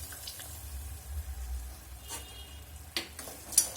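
A spoon stirs hot sugar syrup in a pan while making homemade ginger candy, giving soft scraping and bubbling with a few louder clinks, fairly close and alone.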